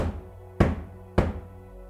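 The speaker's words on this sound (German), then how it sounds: "Wir wurden mitten in der Nacht geweckt von einem Klopfen." Two heavy knocks on a hotel room door in the middle of the night, about half a second apart, dull and close, with quiet room hush around them.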